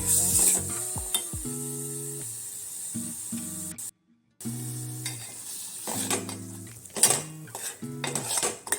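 Ground masala paste cooking in a spoonful of hot oil in a pot for karvanda kadhi, with steady close sizzling broken by stirring clatter and a few metal pot scrapes, one brief silent gap midway.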